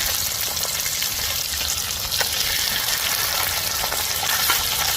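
Pomfret fish frying in masala sizzles steadily in hot oil with a dense, crackling hiss and scattered pops, close and continuous, with no voices.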